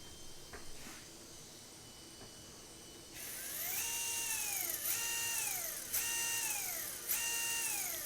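A remote-control car motor spins counterclockwise after its ESC rotation setting is switched, giving a loud, steady electric whine that rises and falls in repeated sweeping bursts over a low background hum.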